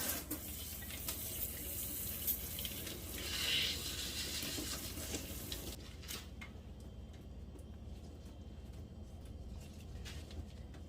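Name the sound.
rinsing soursop fruit under running water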